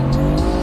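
An exotic car accelerating hard, its engine loud and close with a steady droning roar and a hint of tire noise, no talk over it.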